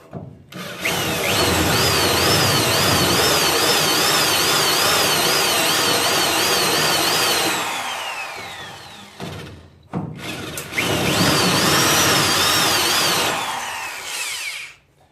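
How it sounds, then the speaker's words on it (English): A power drill whines loudly into a car's metal quarter panel in two long bursts, the pitch wavering as it bites, with a short pause between them. "I drilled a little hole."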